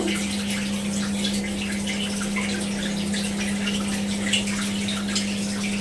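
Water gushes and gurgles steadily over a constant low motor hum, like a machine pumping out its drum, with no talking.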